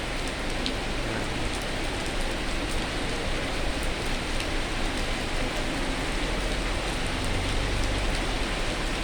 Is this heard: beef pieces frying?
no